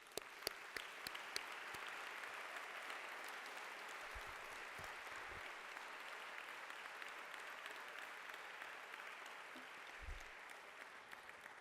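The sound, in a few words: audience applause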